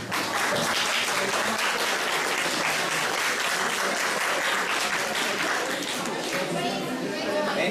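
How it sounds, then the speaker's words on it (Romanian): A large audience applauds loudly and continuously at a high school freshman ball, a dense wash of clapping that holds steady for several seconds, with some chatter mixed in. "Vă rugăm să-i aplaudați."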